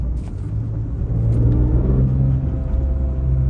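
A steady low rumble and whine from the rear differential of a BMW E46 M3 as the car decelerates, close and fairly loud, droning on through the whole stretch with no one talking.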